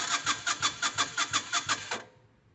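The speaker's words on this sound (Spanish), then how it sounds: "Entonces vamos a girar el motor." Starter cranks the engine of a Yamaha Virago 250 (XV 250) motorcycle during a compression test, with about a dozen fast, even, whirring compression pulses that stop after two seconds, close and alone.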